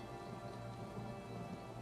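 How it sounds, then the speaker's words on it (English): Rain storm in the Elder Scrolls Online video game, a steady wash of rainfall pattering on surfaces, faint and continuous with no talking. "I could do without this damnable rain. It's been storming since we arrived,"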